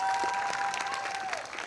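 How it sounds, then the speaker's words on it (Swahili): An audience claps steadily at a ceremony for a newly built commercial complex, a dense, moderately distant wash of applause with a faint tonal note over it. "Tuwapigie tena makofi mengi sana."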